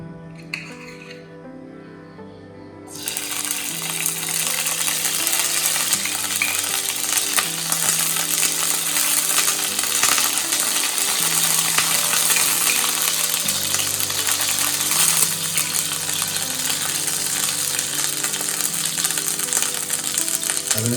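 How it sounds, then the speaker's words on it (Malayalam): Paneer cubes frying in ghee in a pan for paneer butter masala, a loud continuous sizzle that starts abruptly and holds steady throughout, with occasional clinks and stirring rattles. "പനീർ ക്യൂബ്സ് നമ്മൾ നെയ്യിലിട്ട് നല്ലതുപോലെ മൂപ്പിച്ചെടുക്കുന്നതാണ്"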